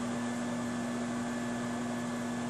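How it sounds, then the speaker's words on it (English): A microwave oven running to melt butter hums steadily with a constant electrical drone and fan whir, even and unbroken throughout, heard alone at close range. "we're going to put our butter in the microwave for 15 seconds"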